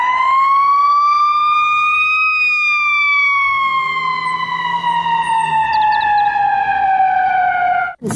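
A toy ambulance's single loud siren tone glides slowly up and then down in a steady wail, close and continuous, ending with a brief click.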